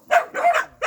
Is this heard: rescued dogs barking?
yes